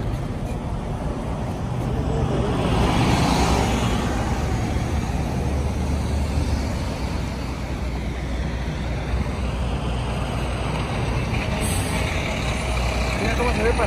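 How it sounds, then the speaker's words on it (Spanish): Cars and trucks hiss past on a snowy road, tire and engine noise rising and fading in a continuous wash, with a truck's air-brake hiss near the end and a voice speaking over the traffic. "Que pasan todos los carros"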